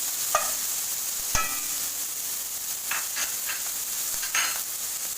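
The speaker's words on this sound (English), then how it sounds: "Add your onion. This is 1 large onion we need." Onion frying in oil for pizza sauce gives a steady sizzle, with a few sharp clinks of a utensil against the pan and soft stirring scrapes, close and without talking.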